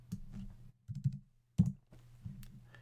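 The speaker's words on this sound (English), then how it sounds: "so I'm going to type it in" Typing on a computer keyboard, short bursts of soft key clicks separated by brief pauses, with one sharper stroke near the middle, quiet and close with no talk.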